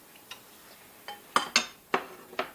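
Green beans go into a pot of bone broth for a homemade vegetable soup, making a handful of sharp, close clinks and knocks against the pot in quick succession, with no speech.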